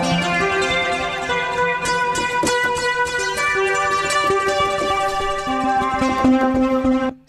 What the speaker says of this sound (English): I'm gonna try out this new plugin from Baby Audio called Atoms.